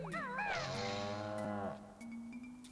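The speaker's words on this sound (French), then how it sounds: "On entend le bruit d'une vache quand même" A cartoonish cow moos loudly from the Banjo-Kazooie video game, one long drawn-out low call that sweeps and wavers before fading, followed by a thin steady game tone alone.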